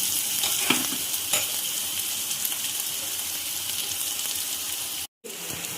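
Steady, bright sizzle of onions frying in two spoons of oil on a tawa, close and continuous, with a few soft stirring clatters and a brief dropout near the end.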